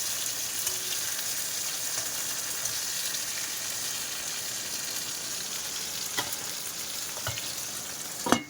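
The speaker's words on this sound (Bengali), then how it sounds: "মাছ ভাজা হয়ে গেছে, তুলে নেবো এবার।" Fish fried in a pan, a monsoon-season catch, gives a steady, close, even sizzle throughout, with a few sharp utensil clinks near the end and no talking.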